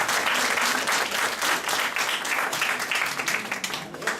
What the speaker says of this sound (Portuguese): Palmas, então.